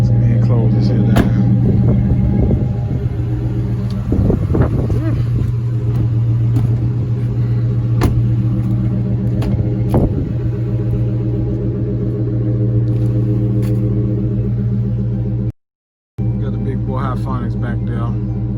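A Chrysler 300 with a muffler delete idles after a cold start on a cold day, a loud, close, steady low burble that pulses throughout, with a few sharper clicks and knocks and a brief cutout near the end.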